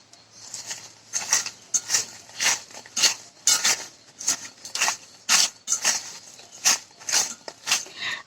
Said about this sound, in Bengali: এই চিনিটা আমের সাথে মিশিয়ে দিই